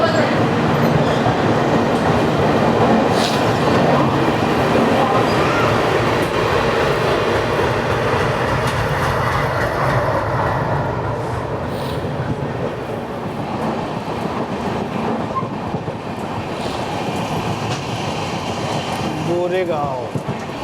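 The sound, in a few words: Saurashtra Janta Express train departing Borivali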